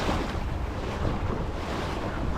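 Waves slap and wash against a sailboat hull during an introductory sailing outing, with steady loud wind buffeting the microphone throughout and no voices.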